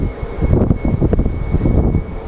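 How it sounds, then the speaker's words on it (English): A Southwest jet airliner taxis quickly at Sky Harbor Airport in Phoenix, giving a steady, fairly loud engine rumble with a faint high whine running through it, heard on its own for a couple of seconds. "That Southwest is taxiing at a very, very fast pace."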